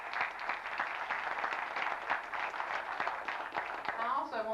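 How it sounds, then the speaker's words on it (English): Audience applause at a legal professionalism seminar, a steady wash of many hands clapping from a sizable crowd, sustained and fairly even throughout, with a voice starting to talk near the end. "So I think she deserves a fine round of applause."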